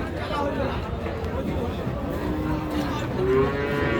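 At a cattle market selling cross Friesian heifer calves, a cow gives a long, fairly close moo over a steady background of crowd chatter and people talking.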